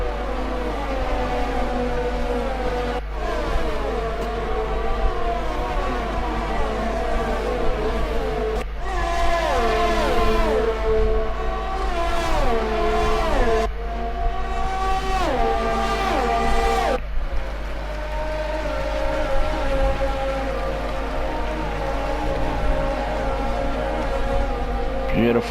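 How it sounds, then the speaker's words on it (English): A Honda-engined Formula 1 car races in the F1 2020 video game at the Italian Grand Prix, its high engine note rising and falling through repeated gear-shift sweeps, loud and continuous against a steady low hum. "Listen to that Honda engine racing car."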